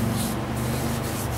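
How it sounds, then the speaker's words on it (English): Steady rubbing of Yorkshire grit abrasive paste on a mahogany ring dish, a continuous close scratchy swishing with a couple of back-and-forth strokes. "so I'm going to put a little Yorkshire grit on there."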